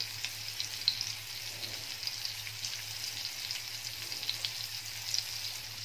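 Bagha fish with thin skin frying on a lightly oiled tawa over a slow flame, a soft continuous sizzle with small crackles, close and fairly quiet, accompanied by a low steady hum and no talking.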